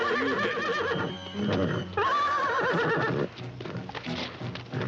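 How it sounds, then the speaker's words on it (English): A horse neighs loudly and at length, with shrill whinnies layered over snorts and the clatter of hooves close by. "Jane found out that Wilton came up here to catch the horse by himself"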